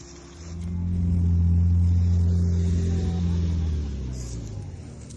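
A car engine rumbles and swells as it strains along a difficult competition track, rising to a sustained loud drone before easing off, with a low hum throughout.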